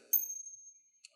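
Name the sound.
tiny high handbell ringing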